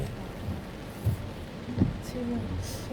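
A passing rain shower falls in Taebaek on a late-summer day, a steady wash of rain with scattered louder drops, and people talk nearby underneath it.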